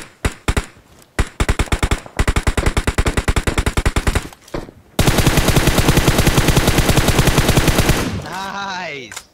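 Rapid automatic gunfire from a battle-royale shooter video game in its final-zone fight: loud, close bursts of many quick shots with short gaps, then a long unbroken volley, ending in a rising and falling electronic whine.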